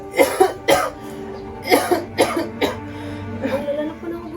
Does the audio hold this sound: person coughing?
yes